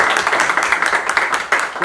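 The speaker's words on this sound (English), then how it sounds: "So please give him a warm applause for his speech" An audience applauds a guest lecturer at the National Assembly: dense, steady clapping at a fairly loud level throughout, with no clear voice over it.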